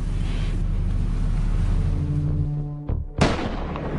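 A sniper rifle shot at sea rings out as a sharp, loud crack near the end, and its boom rolls off quickly over a steady rumble of wind and engine noise.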